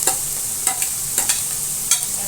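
Peas and cabbage hit hot oil in a frying pan for egg and chicken Schezwan fried rice, a bright sizzle broken by several quick stirring scrapes in a short burst.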